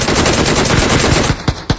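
Rapid automatic gunfire in the mobile battle-royale game PUBG Mobile, a dense stream of loud shots followed by a few separate bursts near the end.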